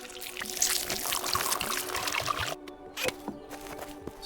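Water pours to fill a container while brewing in the video game Pax Dei, a close, steady splashing stream that trickles and drips off toward the end.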